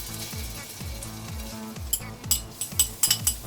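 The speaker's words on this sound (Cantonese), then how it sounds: "煎咗啲 薑蒜先啦" Ginger and garlic sizzle steadily in a hot wok as noodles are cooked, with a spatula scraping in a regular rhythm. Sharp metallic clinks of utensils against the pan grow more frequent toward the end.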